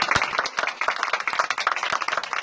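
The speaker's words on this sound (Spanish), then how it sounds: "Les pido un fuerte aplauso aquí para Gris" A crowd applauds at an event supporting market vendors whose stalls burned down, a steady, dense patter of many hands clapping at moderate loudness, with no voices over it.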